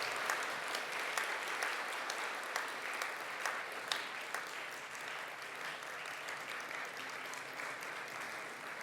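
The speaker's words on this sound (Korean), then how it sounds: "네, 우리 박수하겠습니다." The congregation claps at an anniversary worship service in the chapel of a Methodist theological seminary. The applause is steady and fairly close, rising and falling slightly over several seconds with no speech.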